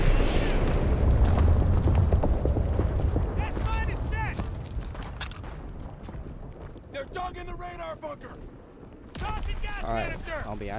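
A V2 rocket blast in a Call of Duty: World War 2 infected match on Pointe du Hoc, a loud rumbling explosion at the start fading into a long roar, while several voices talk and shout over the game sounds.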